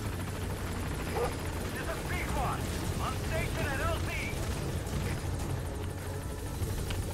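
A helicopter arrives in Metal Gear Solid V: The Phantom Pain, its rotor drone a loud, steady roar throughout, with game sounds and chirps on top and someone talking over it.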